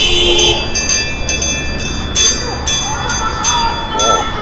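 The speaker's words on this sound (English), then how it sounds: "Sounds like you got a pretty good shake going with that bell." A hand bell shaken hard at an outdoor street protest, its repeated bright metallic ringing pulsing in bursts over a steady crowd din.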